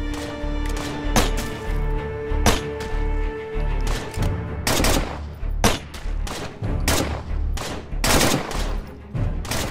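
Gunshots in State of Decay, a zombie game, ring out as sharp, loud single cracks and short volleys in an irregular rhythm over a steady droning game background, with no talking.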